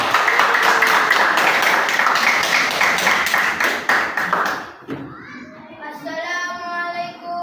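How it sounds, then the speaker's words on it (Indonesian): Energetic classroom applause welcomes group 2 to the front, loud rapid clapping from many hands for about five seconds before dying away, then a voice begins speaking. "Tepuk tangan untuk kelompok 2."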